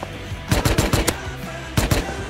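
Gunfire in the survival video game Rust: rapid bursts of close, punchy automatic shots, a volley of about six followed after a short pause by a second burst of three, with no talk over them.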